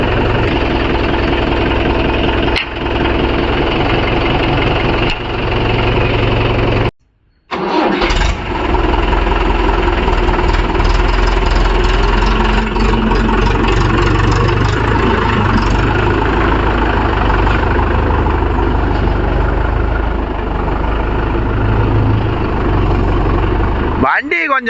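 A Mahindra 415 DI 40 hp tractor engine running loud and close in a steady diesel idle, cut by one brief drop in sound, with people talking over it.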